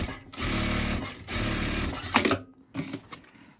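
A sewing machine reinforces a seam on a handmade cloth doll, running in two steady, loud motor bursts with a brief mechanical clatter between them and a shorter run at the end.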